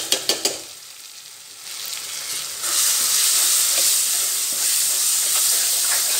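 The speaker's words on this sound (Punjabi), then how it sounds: "ਮਸਾਲਾ ਜੋ ਮੇਰਾ ਭੁੱਜ ਰਿਹਾ ਉਹਦੇ ਵਿੱਚ ਪਾ ਦਵਾਂਗੀ" Masala spices roasting in a hot pan give a loud, steady sizzle and hiss that swells after a few opening clinks of a spoon, close up with no voices.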